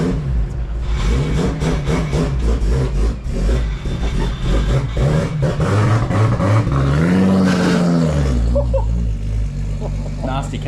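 Chevrolet SS V8 with a full twin 3-inch exhaust open revs loudly and up close, pitch rising and falling through several throttle blips, with voices talking over the engine.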